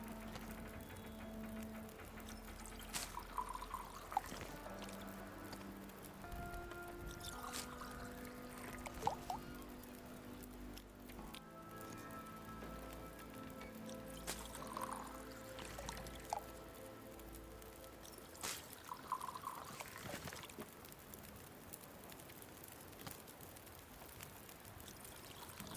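A steady stream of water pours in The Long Dark survival game, a continuous splashing trickle over scattered interface clicks and faint game ambience, fairly quiet and with no talking.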